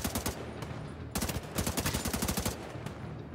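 Rapid bursts of automatic gunfire in The Division 2, played on PC: two dense volleys of sharp, loud cracks with a short gap between them and a few scattered single shots.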